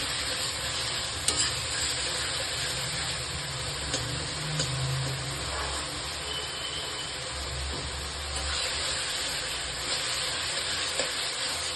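Chilli chicken being slowly stir-fried in a pan, a continuous soft sizzle with a low hum underneath and occasional light clinks of stirring, steady and unbroken, no one talking.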